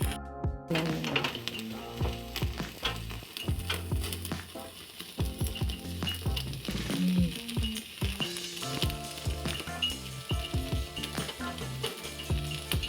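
Ghee sizzles and crackles steadily on hot barbecue food as it roasts, a continuous frying hiss broken by clinking and stirring knocks, close by with no talking.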